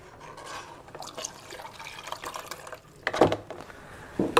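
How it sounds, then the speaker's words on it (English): Water poured into a home coffee maker's reservoir, a soft liquid splash and trickle that rises in bursts near the end, close and fairly quiet with no talking. "I'm going to just put the water in the coffee maker,"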